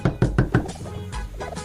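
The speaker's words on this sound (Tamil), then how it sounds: "கதவு தட்டுற சத்தம் கேக்குது" Four firm knocks land on a door in a quick, even series at close range, followed by a softer muffled thud or two amid faint background sound.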